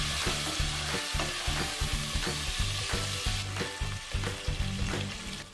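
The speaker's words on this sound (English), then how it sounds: "Now in the same pan, add the onions and green chilies. And fry this until the onions have turned brown." Onions and green chilies fry in a pan for a Northeast Indian fish and bottle gourd dish, a loud, close, continuous sizzle broken by rhythmic scraping and clattering stirs.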